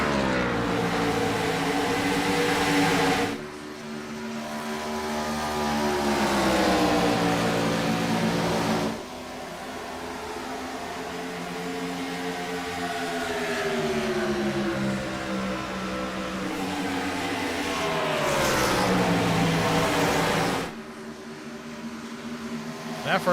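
Race cars roaring down the back straightaway at Atlanta, sustained engine drone rising and falling in pitch as cars pass, loud and continuous with a shift in tone partway through.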